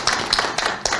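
Scattered claps from a seminar audience welcoming a panel of five education experts at an Incheon policy meeting, a few distinct hand-claps over about a second, moderately loud in a hall.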